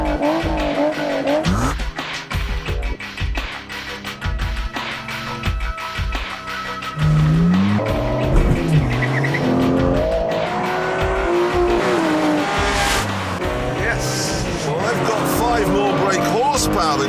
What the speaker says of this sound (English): The first test we have is a simple drag race.